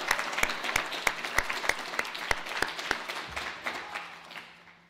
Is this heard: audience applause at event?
yes